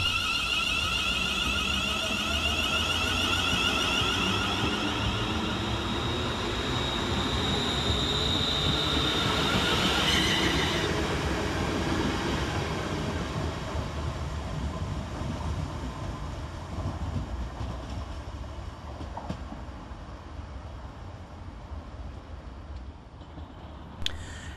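West Midlands Railway class 350 electric unit 350370 moving through Walsall station, a steady rumble of wheels on rail with high squealing and whining tones that slowly fade as the train draws away.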